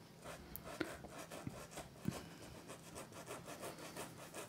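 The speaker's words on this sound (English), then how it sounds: "Scraping and kind of stopping right in here and just kind of flicking, continuing that brush stroke" An acrylic paintbrush scrapes and flicks across canvas while painting artisan coffee mugs, giving faint dry rubbing strokes with a few sharper taps, close and quiet, with no voice.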